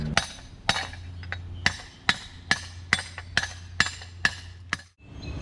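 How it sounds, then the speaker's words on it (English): A chisel is driven with a sledgehammer to bend a dented rim back: nine loud, ringing metallic blows at an even rhythm, each with a short clanging decay, close by and with no talk. "A chisel and a sledgehammer. Let's bend that rim back"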